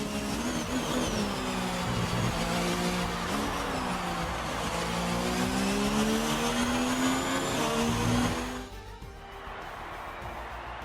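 A Formula 1 Ferrari in the F1 2019 racing game drones with a high, steady engine whine that rises and falls gently, then cuts down sharply near the end, with no voices over it.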